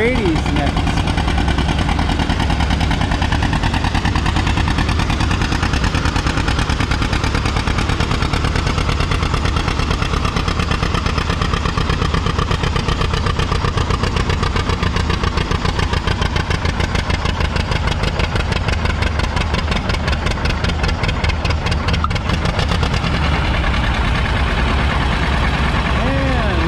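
Vintage John Deere 80 tractor engine at a tractor pull, loud continuous rumbling and revving throughout, with a voice over a loudspeaker speaking over the engine noise.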